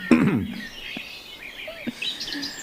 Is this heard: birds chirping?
yes